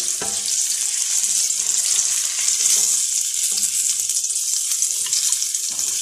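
Potatoes fry in hot oil, a bright, continuous crackling sizzle holding steady and fairly loud throughout, with a few faint knocks underneath and no talking.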